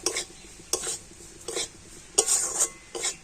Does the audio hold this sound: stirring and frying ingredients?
yes